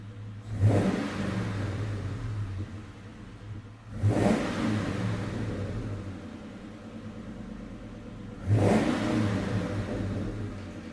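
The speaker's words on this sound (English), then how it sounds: "I'll give it a couple little revs as well." A 2003 Ford Mustang SVT Cobra V8 idles with a deep rumble, revved three times in sharp blips spaced a few seconds apart, close and loud.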